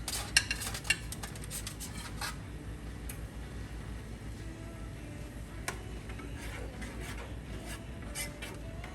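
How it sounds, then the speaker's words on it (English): Stuffed green pepper filling being stirred in a pot, with a close, steady scraping and rubbing of the utensil against the metal and a few sharper clinks near the start. "Stir that up a bit."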